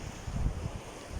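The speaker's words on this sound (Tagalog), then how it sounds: "yung hampas ng alon." Waves lapping the shore at Calatagan beach in Batangas at low tide, a soft low rolling wash with light wind noise and no voices.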